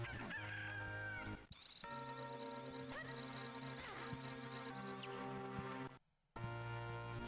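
Chickens from The Legend of Zelda: The Minish Cap cluck and crow in chiptune-style game audio over looping background music, with no talk and a short dropout near the end.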